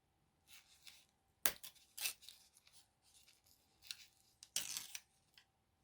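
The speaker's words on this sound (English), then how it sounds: "So I'm just going to rip and tear this." Paper is ripped by hand for a collage, giving several short, faint tearing rasps spaced a second or so apart, with two sharper, louder rips standing out in a quiet room.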